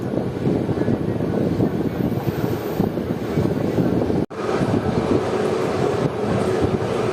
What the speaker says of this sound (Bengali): পাস করছে ট্রেন এখন বৈদ্যবাটি।